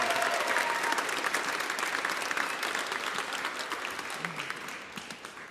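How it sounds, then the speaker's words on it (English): An audience at an MLK concert claps steadily for a performer leaving the stage, a dense, continuous wash of applause that thins slightly toward the end. "Clap them off the stage."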